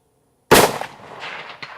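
A single sharp, loud report from an Egyptian Hakim rifle cracks out close by after a silent start, followed by a decaying rumbling echo and a faint later thump.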